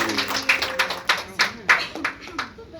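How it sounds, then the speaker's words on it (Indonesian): At an Italian restaurant in a hotel, a handful of people clap for a chef in scattered, uneven bursts nearby, with voices murmuring faintly in between. "tepuk tangan dong buat Chef Desi."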